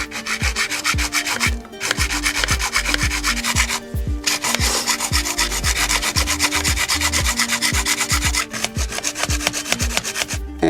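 Rhythmic back-and-forth strokes of a hand saw, loud and close, repeating steadily with a couple of short pauses.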